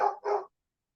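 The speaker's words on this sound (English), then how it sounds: "you will hear some dogs barking." Two quick barks from a dog, close and fairly loud, followed by silence.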